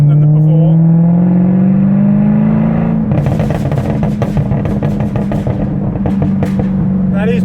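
A tuned Jaguar F-Type with a straight-through exhaust and an aggressive burble map revs smoothly upward, then breaks into loud, rapid crackling burbles and pops above about 3,000 RPM as it accelerates close by.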